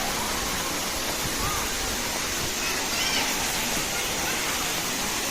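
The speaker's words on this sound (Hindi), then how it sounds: "देखंतु गंडाहाती वाटरफॉल केते सुंदर देखा जाउची" Gandahati waterfall in Gajapati District pours with a loud, constant broadband roar of falling water, close by and unbroken, while a voice speaks faintly beneath it.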